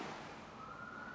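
Police siren in a role-play story scene, a faint rising wail emerging late under a dense, noisy background.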